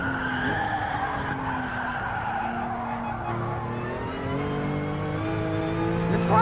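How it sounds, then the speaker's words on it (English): Race car skidding in the video game GT Sport, a steady tire squeal layered over a droning engine note whose pitch climbs and shifts, continuous and loud throughout with no talk. "A full-on race car."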